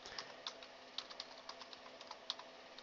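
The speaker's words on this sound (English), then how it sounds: "you're going to want to type" Fingers type on a computer keyboard, a quick run of light, faint key clicks up close in a quiet room.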